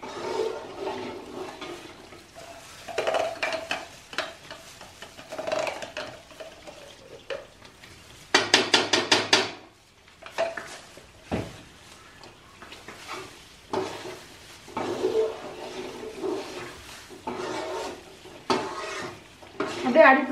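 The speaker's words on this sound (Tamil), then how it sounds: "நெய்யெல்லாம் அப்படியே கொஞ்சம் கொஞ்சமாக சிம்மில் வச்சுட்டு கிளறிட்டே இருங்க" A spoon stirring a Mysore pak mixture in ghee over a low flame, with continuous scraping and soft bubbling sizzle, plus a brief burst of louder metallic scraping midway, close and steady with no talk.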